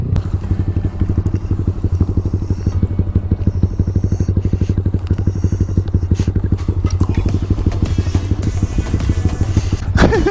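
Honda Grom motorcycle engine buzzing steadily and loudly during a wheelie on a road, a continuous rapid rhythmic thrum with clattering wind noise throughout and no talking.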